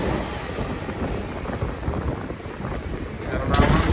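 Express train 16305 pulling into Irinjalakuda station, a steady broad rumble of rolling wheels and engine noise that holds level throughout and swells slightly near the end, with a voice talking over it.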